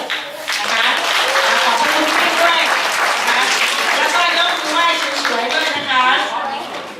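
A group of young people and their elders at a Thai community reading event break into loud, steady applause, with cheerful voices and chatter mixed into the clapping throughout.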